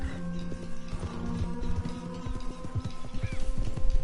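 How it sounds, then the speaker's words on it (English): A thoroughbred Arabian horse in the Red Dead Redemption 2 video game gallops with fast, steady clip-clop hoofbeats, close and continuous over a low ambient hum, with no talk. "Riding bareback on an Arabian. A thoroughbred Arabian. See how fast he goes."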